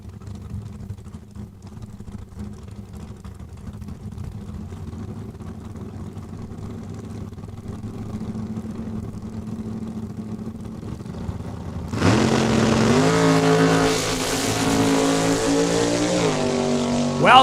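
A drag race car launches hard at Saskatchewan International Raceway in Saskatoon, reaching 140 mph, its engine roaring loudly after a low idling rumble, rising in pitch as it accelerates away down the track.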